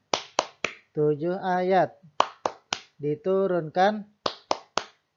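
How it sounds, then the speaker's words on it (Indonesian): Bursts of rhythmic clapping in the Tepuk Al-Fatihah clap chant, sharp claps in quick groups of three, alternating with a child-oriented voice speaking between the sets. "Itu tadi adalah tepuk Al-Fatihah."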